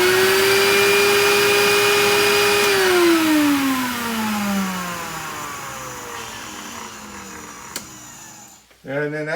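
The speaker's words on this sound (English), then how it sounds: "I'm going to give it like a 1 revolution vacuum just to get the excess water off of that" A record-cleaning vacuum runs loud and steady as it dries a wet vinyl record, its motor whine holding, then falling in pitch as it winds down, ending in a brief clatter.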